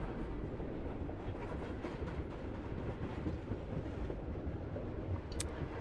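A train rolling along in the video game Project: Eden's Garden, a steady, unbroken rumble with faint rhythmic clatter throughout.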